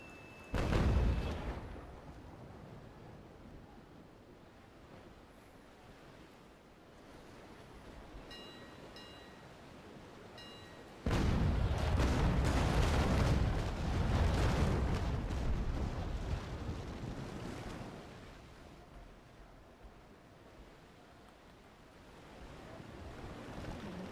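Broadside cannon fire from sailing warships in the naval combat game Naval Action, chasing a Trincomalee frigate: deep booming volleys with a long rumbling roll, a loud burst around the middle over constant sea wash and wind.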